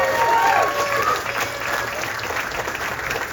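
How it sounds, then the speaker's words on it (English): Audience applause at a live show in a Fredericton venue, a steady wash of many hands clapping that holds throughout, with faint crowd voices underneath. "So a round of applause for you guys."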